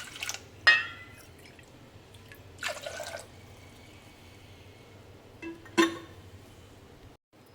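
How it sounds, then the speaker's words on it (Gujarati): Water poured onto lentils in a pot, enough to boil them, comes in three short splashy pours separated by quiet gaps, faint and close, with no talk. "તો એના પ્રમાણમાં આપણે દાળ બફાય એટલું પાણી લઈ લઈશું"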